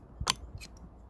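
A secondhand Freelander TD4 air conditioning compressor clutch engages with two short, sharp clicks close by, a fraction of a second apart, over a quiet background.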